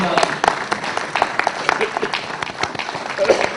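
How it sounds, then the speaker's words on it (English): Steady applause from a neurosurgeons' conference audience, dense clapping that continues throughout at a moderate, even level. "Treasurer Ajay a big applause to Professor Abdullah."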